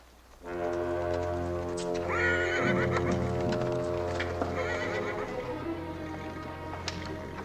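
A horse neighs loudly and at length, a long shaky whinny close by, with hooves clopping faintly underneath.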